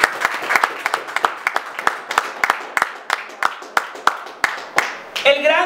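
A church congregation at a Christmas service claps together in a strong, regular rhythm of close, crisp beats, with a voice breaking in at the very end.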